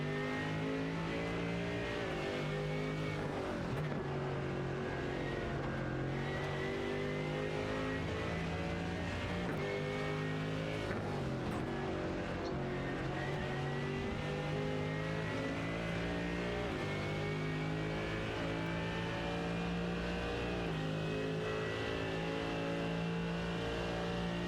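Mercedes, Porsche and BMW race cars at Monza, engines roaring loud and continuous as they race through the chicane, with rising and falling revs and overlapping engine notes throughout.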